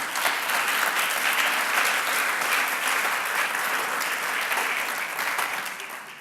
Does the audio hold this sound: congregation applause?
yes